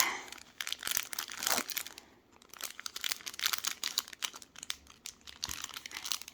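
A plastic zip bag holding diamond painting beads crinkles and crackles up close, handled in quick bursts of rustling with brief pauses between, with no talking.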